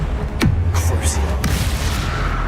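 Crucio curse cast in Hogwarts Legacy, a sharp magical burst with a low booming sweep and crackling flashes, followed by fainter spell bursts, set against a steady game background.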